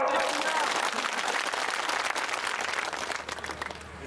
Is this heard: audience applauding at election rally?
yes